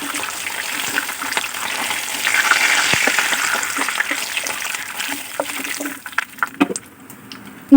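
Fish pieces frying in a pan for fish curry, a close bubbling sizzle that swells midway then thins into scattered crackles and spatters near the end, with no speech.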